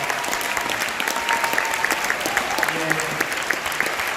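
Continuing applause from a church congregation following a sermon, a broad even patter of clapping with a voice briefly sounding beneath it.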